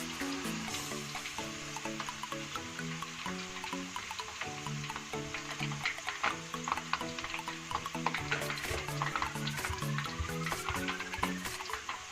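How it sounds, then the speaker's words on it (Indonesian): Sweet potato chips frying in hot oil as they are stirred, a steady crackling sizzle running throughout with no voices over it, and a loud musical backing underneath. "Kita aduk, kita lihat gimana ubi rambatnya sudah matang atau belum."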